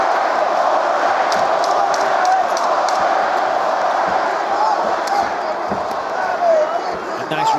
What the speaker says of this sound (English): Pro Masvidal crowd voicing their support late in the round.